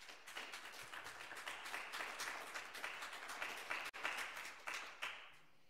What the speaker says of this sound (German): Und ein Applaus